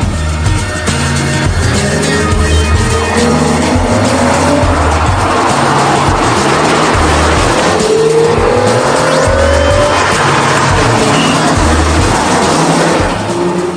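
An Aston Martin DB9 with a 6-litre, 450-horsepower V12 is driven hard. A loud, sustained engine roar runs throughout, with tyre squeal and rising and falling revs close up, and no speech.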